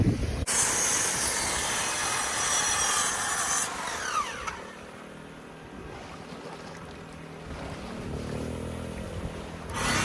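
A handsaw cuts through a wooden stair stringer for an off-grid cabin, with rapid rasping strokes running loud and continuous before easing into quieter, slower scraping.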